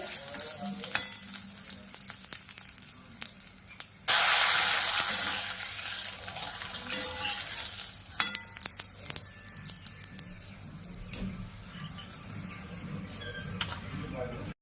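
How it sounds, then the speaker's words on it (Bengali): Homemade mango papad frying in hot oil and puffing up, a close bubbling sizzle that surges loudly when a piece goes in, with stirring scrapes and occasional clinks. "তো দেখো পাঁপড় ভাজা করা কমপ্লিট হয়ে গেছে, আর কত সুন্দর হয়েছে একদম ভাজা।"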